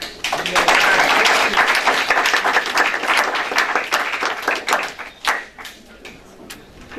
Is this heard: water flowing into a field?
no